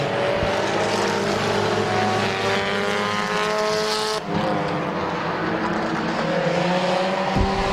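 Stock race cars roar around the oval at Midvale Speedway, several engines droning loud and close with rising and falling pitches as they pass.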